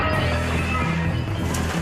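Ten glass windows smashed together in a loud, dense crashing burst that holds steady for under two seconds.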